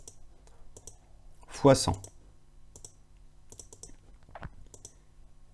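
Calculator keys are tapped in scattered light clicks, a few small groups of presses, while someone speaks French briefly in the middle.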